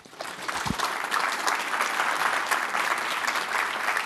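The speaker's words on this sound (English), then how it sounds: "Give him a round of applause." A conference audience gives a speaker steady, dense applause that swells in within the first half second and holds as a loud, even wash of many hands clapping, with no talking.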